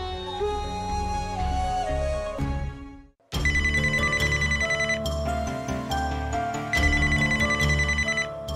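An electronic telephone ringtone rings steadily and loudly in a Marathi TV serial scene, pausing briefly before ringing again, with no talking.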